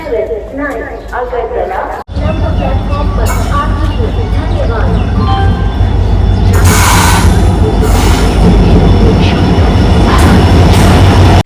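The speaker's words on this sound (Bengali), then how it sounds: "এখন গিয়ে ট্রেন আসছে" A train rumbles loudly into a station, a heavy steady roar building after brief voices, with hissing bursts near the end.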